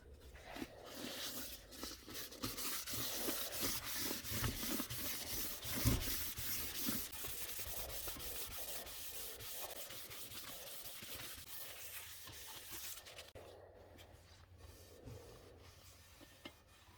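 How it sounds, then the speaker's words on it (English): Wet sanding of an Alfa Romeo OZ Monza three-piece wheel with 2000 grit paper, a steady close rubbing and scratching that runs continuously and then thins out near the end. "Now we're on to the last sand with 2000 grit wet"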